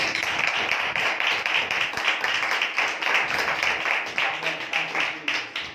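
A church congregation claps together in loud, sustained applause with voices mixed in.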